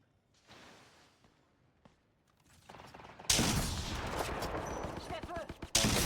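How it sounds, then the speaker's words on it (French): Gunfire in the video game Apex Legends: faint scattered clicks and shots at first, then a loud, dense burst of rapid automatic fire and mechanical clatter filling the last half, with a fresh loud volley at the end. "Je fais feu."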